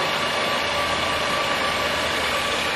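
A Birmingham 13x40 lathe running at high speed gives a loud, steady, broadband whir and hum that holds unchanged throughout, with no voices.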